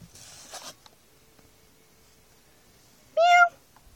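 A single short meow from a cat named Oreo, close and clear near the end, preceded by faint rustling and handling noises in a quiet room.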